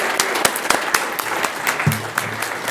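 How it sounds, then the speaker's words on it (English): An audience at a school district governing board meeting claps steadily for the district spelling bee winner from an elementary school. The applause is sustained, dense and even, with a brief voice-like murmur partway through. "Let's give Annabelle just a huge round of applause."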